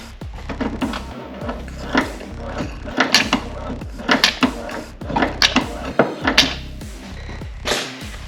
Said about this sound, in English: All right, so I'm gonna pump the brake